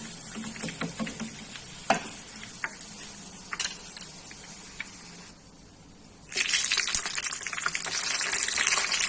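Onions frying in a pan for chicken maqlooba, a steady crackling sizzle with scattered stirring clicks and scrapes, briefly quieter mid-way then returning louder and denser.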